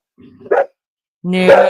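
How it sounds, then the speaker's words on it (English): A dog gives a short bark or yip, a brief silence, then a longer, louder bark or howl-like vocalization, close by with a person speaking briefly. "that is a dog."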